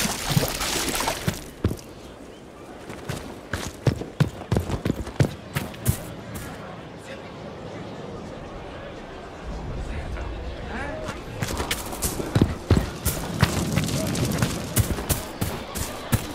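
Irregular horse hoof clops and thuds ring out near and loud over a busy Dragon Age: Inquisition game soundscape, with bursts of activity at the start and again toward the end.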